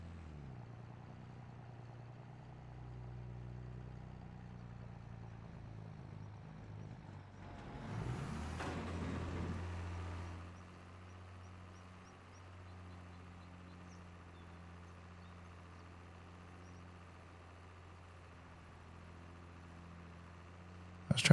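Steady engine drone of a tractor driving in Farming Simulator 25, low and continuous with a brief louder rumble and clatter partway through, then settling back to an even hum with no talking.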